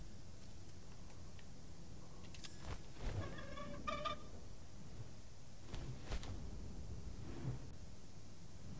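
Bird calls from a bird character in the Lord of the Rings: Gollum video game, a few short bright chirps and squawks set against a steady ambient game background hum, fairly faint with no talk.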